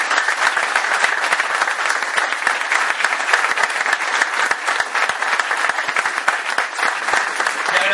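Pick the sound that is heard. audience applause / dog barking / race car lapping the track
audience applause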